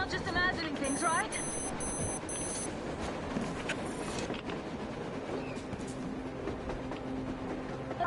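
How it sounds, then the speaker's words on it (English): Train rolling across the surface in the video game Metro Exodus, a continuous rumbling clatter of rail cars with a few high electronic beeps early on, mixed with game ambience. "A train! A damn train on the surface!"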